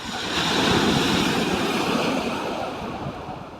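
Sea waves wash onto a clean beach in Normandy with the tide in, a loud, rolling surf that swells and slowly fades, mixed with gusty wind buffeting the microphone.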